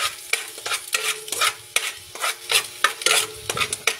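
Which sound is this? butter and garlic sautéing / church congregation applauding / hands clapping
butter and garlic sautéing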